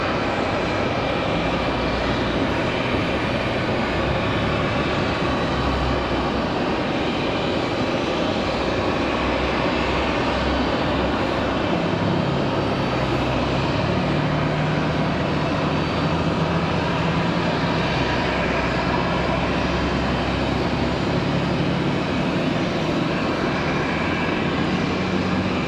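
An airliner landing at Raleigh-Durham airport after a flight from Atlanta gives a loud, steady jet roar that holds for the whole stretch, broad and unbroken without any voices.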